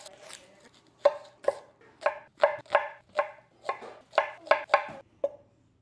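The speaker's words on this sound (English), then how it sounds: "I'm gonna go ahead and chop this onion next" A knife chopping an onion on a cutting board, about a dozen distinct close thuds in an uneven rhythm, with no talking.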